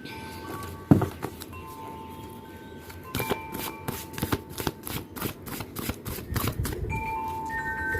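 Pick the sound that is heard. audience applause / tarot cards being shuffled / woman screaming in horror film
tarot cards being shuffled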